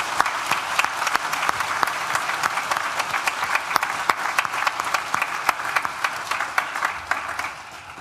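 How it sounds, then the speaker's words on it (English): Sustained applause from a large audience at a university graduation ceremony, dense continuous clapping at steady volume for several seconds before easing slightly at the end. "Please join me in thanking them with a well-deserved round of applause."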